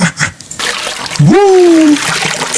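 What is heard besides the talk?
splashing while swimming in water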